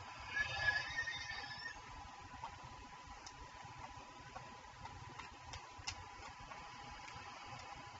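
A Minecraft horse lets out a shrill whinny near the start, followed by a sparse ticking and clicking game ambience with faint background sounds.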